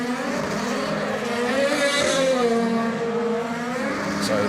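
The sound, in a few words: DTM race cars on track during qualifying at Misano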